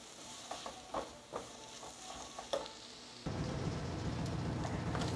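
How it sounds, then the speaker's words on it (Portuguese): Ground meat and carrot sautéing in a pan for farofa, heard first as a quieter sizzle with spoon stirring scrapes, then a sudden switch at about three seconds to a loud, steady, dense frying hiss that continues to the end. "E deixa refogando aqui."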